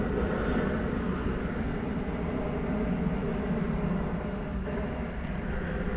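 A DHL cargo plane at DFW Airport at night gives off a steady, broad jet roar, loud and unbroken from start to finish, with no talk.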